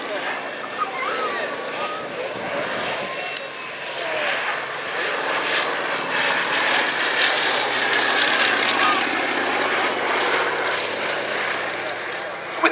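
A Fairey Swordfish biplane with a Bristol Pegasus radial engine flies past at an airshow, its propeller drone rising and swelling steadily throughout, with faint crowd murmur in the background.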